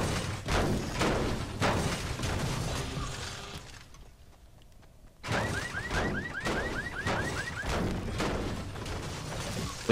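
In Fortnite gameplay, amid loud crashing and clattering, a car alarm sounds a rapid series of repeated rising chirps, a bit muffled under the surrounding noise.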